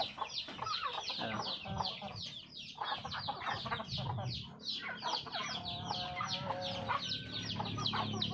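Two-month-old Brahma chickens clucking and chattering in a pen, overlapping calls and short squawks from several birds close by, continuous throughout.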